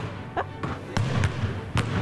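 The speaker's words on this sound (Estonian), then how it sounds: "Üks pall põrkub vähem." Basketballs are dribbled during a televised Guinness record attempt, sharp bounces landing in an uneven rhythm about every third of a second, close and loud over a murmuring background.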